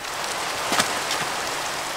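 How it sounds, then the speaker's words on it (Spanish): Steady rain patters in a constant hiss, with a faint brief knock partway through and no talk. "¡Lluvia!"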